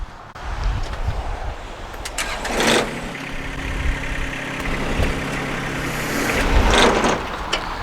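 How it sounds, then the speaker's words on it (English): A John Deere 1025R compact tractor starts up and pulls away, its small engine droning at moderate distance with a couple of louder revving surges and no talk. "you can drive the tractor away."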